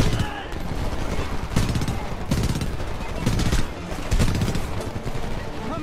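Machine gun fire in the video game Homefront: rapid, loud bursts of automatic gunfire repeating in clusters across the moment, heard under someone talking.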